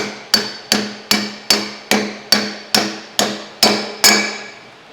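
Ten sharp, evenly spaced hammer taps drive a suspension part into place on a C30 dually truck, each metallic strike close and loud, decaying quickly before the next.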